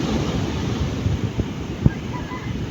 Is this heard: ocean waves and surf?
yes